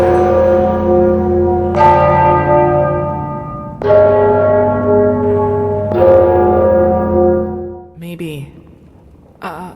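Deep church bells in the video game Skyrim: Enderal toll loudly about every two seconds, each strike ringing with long sustained overtones, followed by a brief trailing sound at the end.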